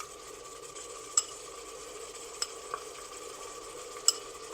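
Ginger and garlic paste is stirred into a pot for haleem, giving a faint low sizzle with occasional sharp utensil clinks against the pot.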